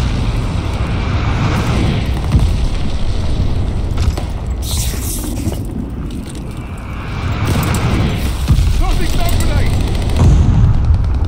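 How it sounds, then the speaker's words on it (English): Glide bomber airstrike in Call of Duty Vanguard, a 16 vs 16 Team Deathmatch on the Red Star map: loud, continuous rumbling booms and blasts rolling through the whole stretch, with louder bursts near the middle and end. "Friendly glide bomber incoming."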